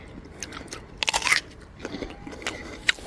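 Crisp crunchy bites into an unripe green-yellow peach, a few sharp crunches followed by softer close-up chewing, with no talking.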